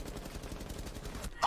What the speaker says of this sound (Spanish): ¿Veis que yo disparo?